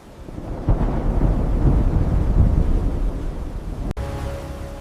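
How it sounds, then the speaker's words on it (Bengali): A deep, sustained rumble of thunder builds and rolls on for several seconds, loud and close, then cuts off sharply into lighter background noise. "প্রচণ্ড ঝড়, বৃষ্টি ধীরে ধীরে মৃত্যুর রূপ নিচ্ছিল"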